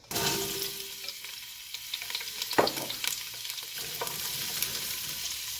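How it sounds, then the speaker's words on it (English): Onions and peppers hit a hot pan for tomato soup and sauté with a bright, steady sizzle, a few stirring knocks and clatters scattered through, close and without speech. "first thing you want to add is going to be your onions and peppers. We'll bring that and saute it."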